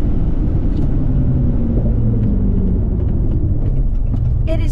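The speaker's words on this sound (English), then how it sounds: "the acceleration is so aggressive" Loud, constant engine roar and rumble of a car accelerating hard during a race in Monaco, heard from inside, filling the whole stretch with a dense low drone and brief higher whines near the end.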